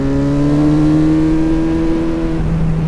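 A Ducati 916 motorcycle engine revs steadily as the rider sets off, a loud close droning tone that climbs slightly in pitch and holds without a break.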